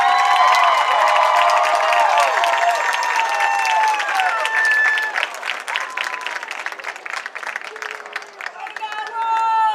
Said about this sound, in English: let's give these football seniors and their parents a round of applause.